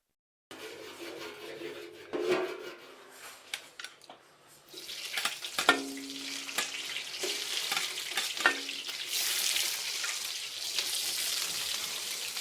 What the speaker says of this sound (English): We're just going to sear this, as always, a bit.